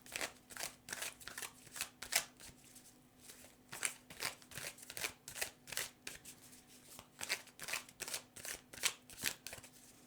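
A deck of tarot cards is shuffled by hand in a quiet room, giving a long run of crisp, rhythmic riffling bursts that repeat roughly every half second, close up and clear.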